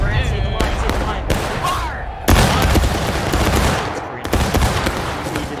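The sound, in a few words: musket volley fired by a line in video game War of Rights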